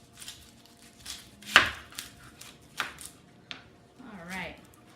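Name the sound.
knife cutting an onion on a board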